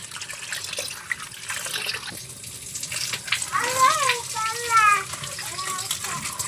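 Tap water runs steadily as dishes are washed after a meal, with a voice speaking over the flow.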